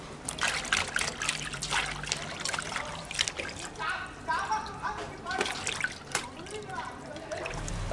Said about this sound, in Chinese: 再给洗一次。